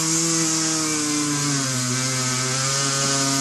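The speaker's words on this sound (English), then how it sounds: "So I'm just going to trim just the bottom part of this. Same deal with cut-off wheel." A cut-off wheel grinds through hard reinforced nylon plastic on an HK G3-style Tippmann A5 build, a loud, continuous high-pitched whine with shifting pitch that holds steadily for the whole stretch, close and alone.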